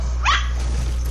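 A person imitates a dog with one short, sharp bark-like yelp over a steady low hum, heard near and alone.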